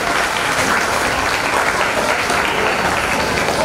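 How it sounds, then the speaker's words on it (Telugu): An audience at the K V Satyanarayana Excellence Award ceremony claps steadily and loudly throughout, offering birthday greetings, with a dense, even wash of many hands and no voices. "చప్పట్లతో ఆయనకి జన్మదిన శుభాకాంక్షలు తెలియజేద్దాం"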